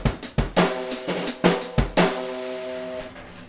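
A drum kit plays a steady beat, with punchy kick and snare hits under short, tight staccato hi-hat strokes, close and loud, the last hit ringing out alone.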